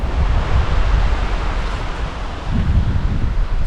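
Ocean waves wash a tropical beach at Pagudpud in northern Luzon, lined with coconut palms, as a constant loud rushing roar of surf and wind, heard alone without voices.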